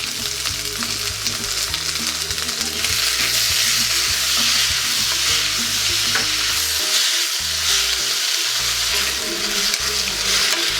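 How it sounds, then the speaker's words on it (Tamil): Onions and tomatoes sautéing in a pan for drumstick kuzhambu, a steady loud sizzle of frying with repeated stirring scrapes throughout, no voices. "வெங்காயம் கொஞ்சம் வதங்கிருச்சு. தக்காளியும் வந்து நல்லா வதங்கிருச்சு."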